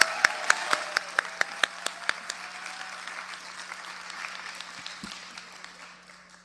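Conference audience applauding a speaker, opening with a few loud, sharp rhythmic claps that swell into dense sustained clapping, then gradually fading toward the end.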